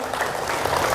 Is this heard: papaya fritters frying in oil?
no